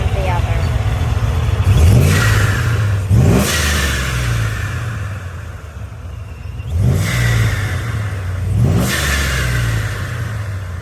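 A boosted Chevrolet Silverado with a Turbosmart blow-off valve revs hard twice in close succession, each climb ending in a sharp pressurized whoosh of venting air, loud and close with no talk.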